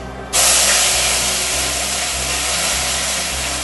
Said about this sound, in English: So to this caramelized ghee, so now I put the onion paste.